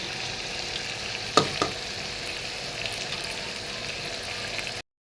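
A steady, even sizzle of fish frying in oil on a low gas flame, with a couple of light utensil taps near the start before it cuts off.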